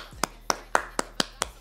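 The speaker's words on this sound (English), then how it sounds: "Let's give them a clap." Six quick, evenly spaced hand claps ring out close and crisp, with no voices over them.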